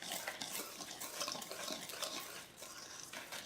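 A spoon or whisk stirs flour with ginger, nutmeg and cinnamon in a bowl for hummingbird cupcakes, giving a continuous soft scraping and rustling at close range without pauses.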